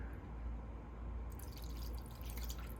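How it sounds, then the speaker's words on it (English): Cleaning vinegar pours from an opened bottle into a candle jar, a faint, brief trickling splash over a quiet low hum, with the liquid sound picking up about halfway through. "So we take the top off, pour a little bit in here"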